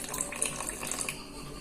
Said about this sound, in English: And then you just add a little bit of water.